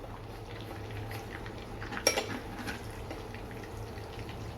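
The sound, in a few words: fried prawns being lifted out onto a plate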